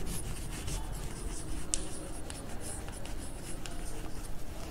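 Close pencil strokes on paper while a graph is drawn, a soft, continuous scratchy rubbing with small quick accents, steady throughout and without speech.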